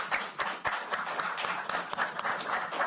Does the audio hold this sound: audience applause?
yes